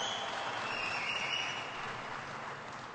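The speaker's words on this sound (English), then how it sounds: "Give him a big round of applause." A large audience applauds Secretary Ray LaHood at an event on Chrysler's rebirth, a steady, moderately loud wash of clapping that slowly fades over three seconds.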